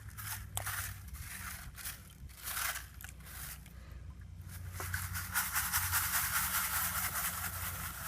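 Gold paydirt from Eureka Gold Sands shaken through a fine mesh classifier into a pan, a steady gritty rattling and hissing of sand and gravel that grows louder and denser toward the end.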